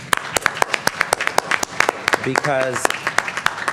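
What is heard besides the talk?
applause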